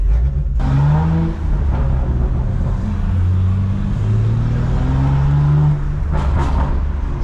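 A BMW M3 with a loud, illegal aftermarket exhaust cruising at night, heard from inside the car as a steady, loud, droning engine rumble whose pitch rises and falls with the throttle.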